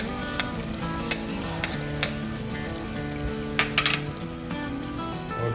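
Minced meat qeema fries in a pan with khara masala and a steady, close sizzle, broken by occasional sharp clinks and scrapes from a stirring utensil against the pan.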